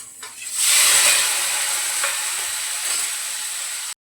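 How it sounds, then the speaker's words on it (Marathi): Paneer pieces dropped into hot oil in a pan, a loud steady sizzle and hiss that swells as they go in, then holds evenly with faint stirring and clinks, ending in brief silence. "तेल टाकले आता चांगलं हे सगळं पनीर टाकून देते मी"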